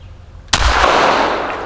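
A single .22 rifle shot cracks sharply while frogging outdoors at night, loud and close, and its noisy echo trails off slowly through the rest of the moment.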